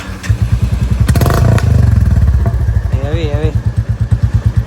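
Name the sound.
new Royal Enfield Bullet motorcycle engine started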